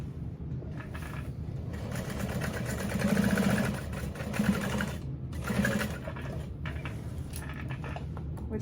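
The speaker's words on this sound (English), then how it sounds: "it has you add a second line of stitching to reinforce the connectors" A sewing machine runs steadily while stitching a second reinforcing line on a backpack, a close continuous mechanical whir and needle chatter that swells slightly in the middle, with no talk.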